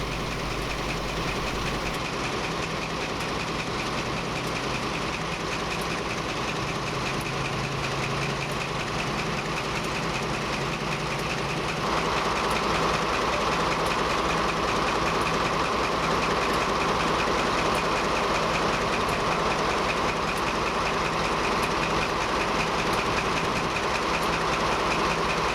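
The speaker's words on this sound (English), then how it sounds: "Our double-heading Class 14s then head under the signal gantry and onwards to Heywood." Two Class 14 diesel locomotives working double-headed pass by, a steady loud engine drone and rumble that holds throughout and swells louder partway through.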